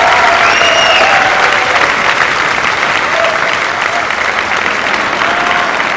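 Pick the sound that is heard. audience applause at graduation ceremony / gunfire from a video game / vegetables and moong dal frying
audience applause at graduation ceremony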